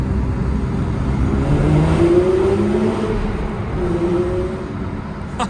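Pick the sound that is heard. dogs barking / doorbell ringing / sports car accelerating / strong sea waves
sports car accelerating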